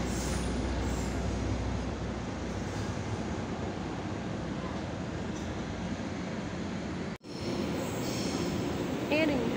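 Fajar Utama Yogyakarta passenger train, locomotive CC 201, departing with a steady heavy rumble and roll of wheels, a brief dropout near the end, then faint wheel squeal, loud and close.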